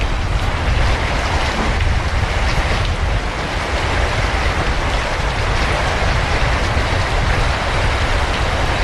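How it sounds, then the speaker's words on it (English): Heavy rain and hurricane-force wind, over 100 km/h, batter an airship flying into a hurricane, a dense, loud, unbroken roar of rushing wind and pelting water lasting throughout with no talk. "now heavy rain has set in, and wind speed is up to more than 100 kilometers per hour"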